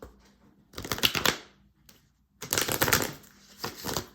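A deck of tarot cards is shuffled close by in two quick, crisp riffle bursts separated by a short pause, with light flicking and rattling and no voices.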